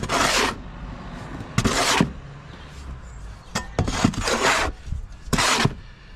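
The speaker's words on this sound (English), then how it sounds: "Find it easy just to mix in my bath. So I'll gauge my sand and cement out." Dry sand and cement being mixed by hand in a bath with a shovel, several loud gritty scraping strokes with short pauses between, close up and alone.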